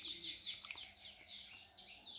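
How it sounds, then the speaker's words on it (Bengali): Doves call through a quiet rural morning, soft repeated chirping and cooing notes drifting from a distance over faint background hush. "চারিদিকে ঘুঘু পাখি ডাকছে।"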